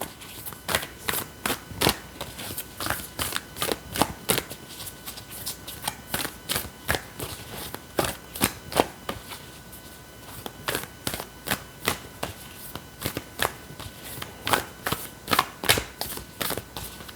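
A Lemurian tarot deck being shuffled by hand, with crisp, close riffles of cards snapping in a steady repeating rhythm that continues for a long stretch without talk.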